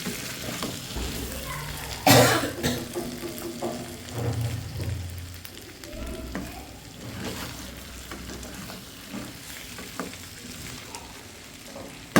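Mutton fry sizzling in a pan, a soft continuous crackle of frying meat with occasional scraping stirs and a sharp clatter early on, steady and close, with faint background sounds.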